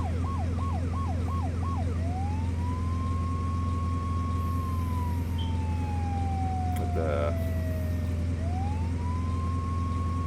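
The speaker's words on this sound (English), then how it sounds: "normally when you would hear sirens and see flashing lights in the mirror, you would pull over" An emergency vehicle siren in the game Flashing Lights yelps rapidly several times, then shifts into a long rising and falling wail over a constant engine drone, with a brief spoken word.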